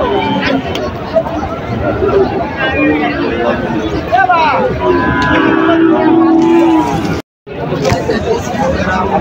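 Cattle moo at a busy rural cattle market in Sirajganj, Bangladesh, several drawn-out calls rising over a steady crowd of talking people, with a brief drop to silence near the end.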